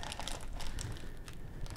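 A gallon Ziploc bag crinkles up close as air is squeezed out of it to seal a crock of fermenting kimchi: irregular, crackly rustling for under two seconds.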